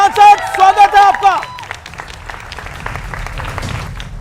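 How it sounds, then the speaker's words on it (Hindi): Studio audience on a Hindi political TV debate show clapping to welcome two guests, an MP and a Congress leader; a host's voice and musical sting open before loud, steady applause rises and continues to the end. "दोनों मेहमानों का स्वागत है जोरदार तालियों के साथ"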